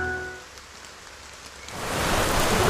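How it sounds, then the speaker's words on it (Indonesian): Sudden rain begins in the mobile game Moonlight Blade M, a hissing downpour that swells from a quiet backdrop into a loud, steady wash. "Tiba-tiba hujan"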